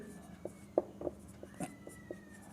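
A pen or pencil writing on paper during a maths lesson, heard as faint, close scratchy strokes in short irregular bursts, with soft background hum and quiet talk.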